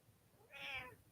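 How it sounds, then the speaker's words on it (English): A big house cat weighing 30 to 35 pounds lets out a single drawn-out meow at close range, rising and then falling, over a quiet background. "Yeah, that's my cat."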